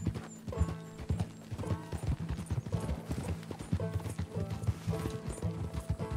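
Rapid rhythmic hoofbeats of a galloping horse in Red Dead Redemption 2, loud and close, with clinking tack and a brief whinny over a game soundtrack.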